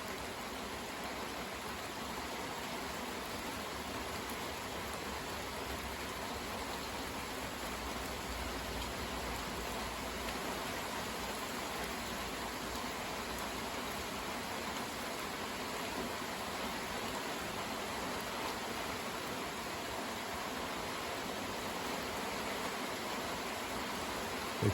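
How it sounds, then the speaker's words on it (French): Sustained heavy rain from an evening shower drums on surfaces in an unbroken roar, dense hiss over a soft low rumble, constant in level for the full stretch and free of speech. "On entend le bruit sourd de la pluie qui tombe."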